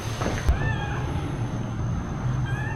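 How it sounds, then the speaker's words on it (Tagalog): A cat meowing, several drawn-out, wavering meows close by over a low background hum, with a brief knock near the start and no talk. "Pusa."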